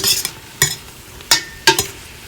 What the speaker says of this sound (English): Stir the onions and the mushrooms together so they can flavor each other.